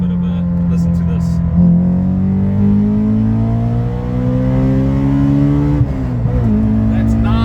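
A Honda S2000 engine revs up hard, its pitch climbing steadily to a high wail, then drops briefly and climbs again. It is loud and close, and a voice speaks over it.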